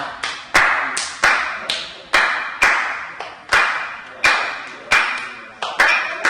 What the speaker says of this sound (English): So the clap will be like this.